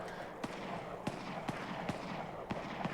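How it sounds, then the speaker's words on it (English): Distant gunshots in Fallout 4 sound off far away, about six sharp cracks spaced roughly half a second apart against a steady background hiss. "Who is shooting each other over here?"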